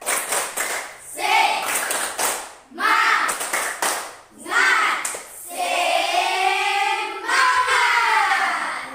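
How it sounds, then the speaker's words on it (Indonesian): A class of students doing tepuk semangat, a patterned spirit-raising clap routine led by the teacher, with bursts of rhythmic hand claps and chanted group voices in a classroom. "Kita akan melakukan tepuk semangat, biar semangat lagi untuk menyelesaikan pembelajaran berikut."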